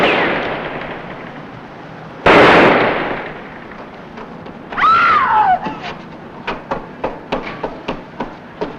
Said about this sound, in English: Stop or I'll shoot!